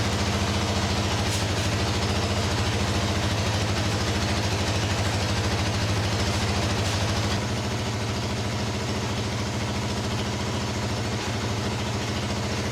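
A Honda NX250 motorcycle engine idles steadily after starting, a continuous close low rumble that holds even throughout with no voices.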